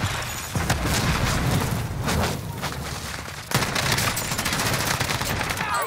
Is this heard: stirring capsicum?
no